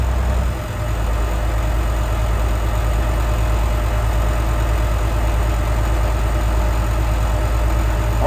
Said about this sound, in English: Now they're starting to hold an idle now.